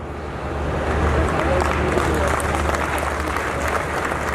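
An audience at a book launch applauds steadily, a dense, sustained wash of clapping heard from within the hall with no break.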